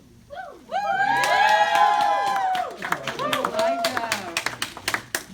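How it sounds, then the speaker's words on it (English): An audience gives loud applause and cheering at a school assembly, a dense sustained roar of clapping and shouts that thins into scattered individual claps. "can we have another round of applause for Corps 51?"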